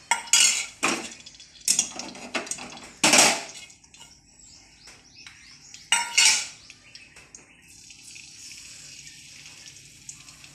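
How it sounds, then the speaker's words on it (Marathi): Garlic cloves, ten to twelve, roasting in a ladle of oil in a pan, with a metal spatula clanking and scraping against the pan in several sharp bursts separated by quieter stretches. "लसूण छान भाजून घेतलेला आहे"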